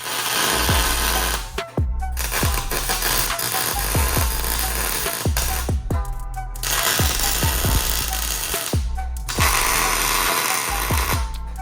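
Tack welding high steer arms onto a Jeep TJ steering knuckle in a shop: a loud, steady crackling arc broken into several separate bursts, with sharp metallic taps in between and no talking.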